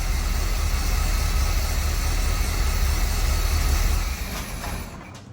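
A 1975 Chevy C3 Corvette, started after fifteen years off the road, idles with a steady, loud low rumble that drops noticeably in level near the end, with no voices over it.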